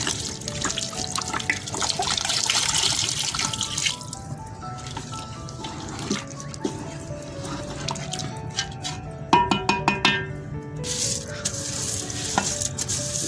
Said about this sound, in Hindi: हम चावल गिलाने के लिए पानी डाल देंगे